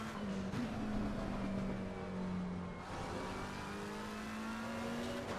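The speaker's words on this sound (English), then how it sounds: "Steady on the wheel, the car will make the turn and accelerate." Engine of a race car in a racing video game accelerating out of a turn, a steady droning whine that rises slightly in pitch, loud and continuous throughout with no talk.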